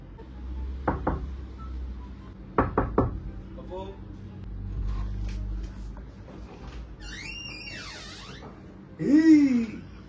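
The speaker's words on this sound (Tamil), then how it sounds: "அவங்க கதவை தட்டினோடனே நம்ம கதவை திறப்போம்." Two quick clusters of knocks rap on a wooden room door in a hotel stay in Agra, followed by a quiet pause, then voices and squeaky exclamations near the end.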